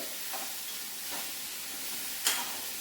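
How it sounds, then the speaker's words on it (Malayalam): Mezhukkuvaratti, a Kerala stir-fried vegetable dish, is stirred in a pan. A soft, steady sizzle runs under a few faint scraping strokes, and near the end there is one sharper clink. Nobody talks. "നമുക്ക് ഈ മെഴുക്കുവരട്ടിയൊക്കെ ഒന്ന് ഇളക്കിയിടാം"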